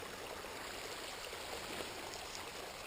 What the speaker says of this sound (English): If you remove the rocks, the brook would lose its song.